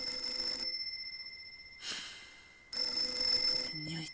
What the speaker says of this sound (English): Why did the phone ring?